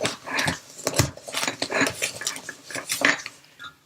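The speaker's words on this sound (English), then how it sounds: "Now whisk them together or beat them if you have an electric mixer" Cookie ingredients get whisked together in a bowl, a close, loud run of rapid clinks and scrapes coming in irregular bursts of metal against the bowl.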